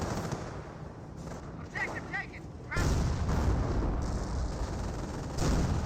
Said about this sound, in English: Rifleman squad getting some shots there.